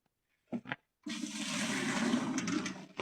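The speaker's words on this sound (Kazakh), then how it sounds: "Қазір аязда су құю" Water pours out in a steady rushing stream outdoors in freezing frost, after two short splashes. The gush runs continuously for about two seconds before stopping abruptly.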